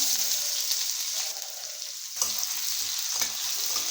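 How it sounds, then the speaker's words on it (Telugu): Cumin seeds, curry leaves and onion fry in hot oil in a pan for a vegetable curry, making a loud continuous sizzle with brief crackles and stirring scrapes, close up and without speech. "ఆయిల్ హీట్ అయిందండి, జీలకర్ర వేసుకుంటాం. కరివేపాకు, ఆనియన్,"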